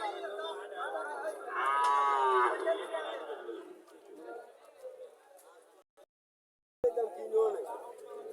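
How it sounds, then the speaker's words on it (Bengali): A calf lowing at a busy cattle market, a loud drawn-out moo rising early and tapering, with people chattering around it and a brief dropout before the market noise returns. "দেখার মতো বাছুর এটা"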